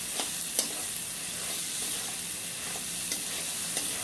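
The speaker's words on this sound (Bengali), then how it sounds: "এই লাগা মানে মশলা আমার লেগে যাচ্ছে, মানে মশলা কষে যাচ্ছে।" Spice masala frying for kosha mangsho, a Bengali mutton curry, with a constant bright sizzle and hiss and occasional scraping strokes as it is stirred in the pan, close up with no voices.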